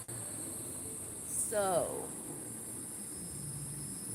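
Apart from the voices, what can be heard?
cicadas or birds calling at dusk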